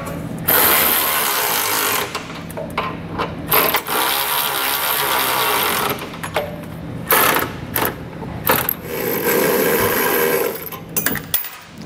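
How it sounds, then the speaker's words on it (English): Ratchet with a 19 mm socket snugging down bolts on a Curt trailer hitch receiver being installed on a 2021 vehicle, giving loud, close, continuous clicking in long runs broken by brief pauses. "we're going to come back with a 19 millimeter socket and snug everything down"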